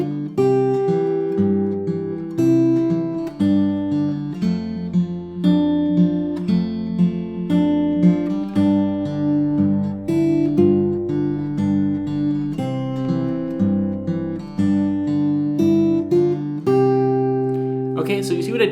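Acoustic guitar fingerpicked in a Travis style, playing a simplified version of a song's melody without hammer-ons. A steady alternating bass sits under clear plucked melody notes, played alone throughout.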